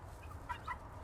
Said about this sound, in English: Hey, birds, every time we start filming, one of you starts talking.